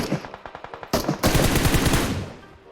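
Automatic gunfire in PUBG Mobile, starting as a rapid string of distinct close shots, then a dense loud burst of overlapping fire that tails off.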